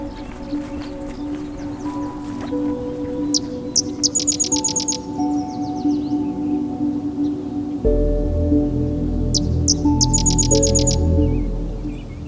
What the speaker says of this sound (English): Their song consists of several dry-sounding chirps